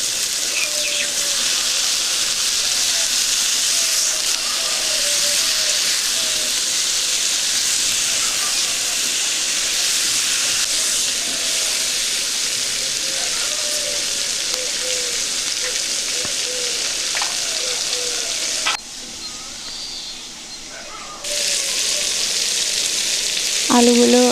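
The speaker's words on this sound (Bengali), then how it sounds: "পটলগুলো দিয়ে দিলাম একটু লাল লাল করে ভেজে নেবো" Pointed gourd (potol) fries in oil with turmeric, a loud, dense, steady sizzle close by that runs almost the whole time, dipping briefly near the end before surging back.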